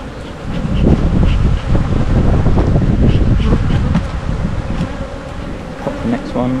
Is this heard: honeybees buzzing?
yes